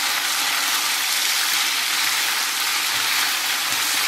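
Beef tripe frying hard with browned shallots in a hot pan while being stirred in, a loud steady sizzle that holds even and close throughout with no voices.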